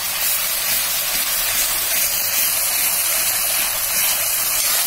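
Ginger garlic paste frying with browned onions in a pan, a steady loud sizzle and hiss throughout with no voices.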